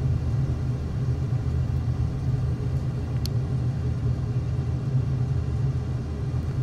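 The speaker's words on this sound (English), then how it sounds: "I'm stalling this plane. That's what that sound is." Stall buffet of an F-15 jet in flight from Yokota to Osan: a steady, loud, deep rumble that holds unchanged throughout, with no speech.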